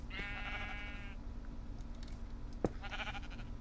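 Sheep in the video game Minecraft give two loud, wavering bleats separated by a pause, with a sharp click between them over a constant low background hum.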